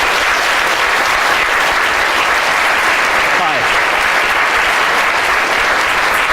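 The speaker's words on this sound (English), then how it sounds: "Big round of applause, please." Loud, sustained audience applause welcoming the London South Bank University team onto a stage, dense and even throughout, with a brief voice saying a short greeting over the clapping.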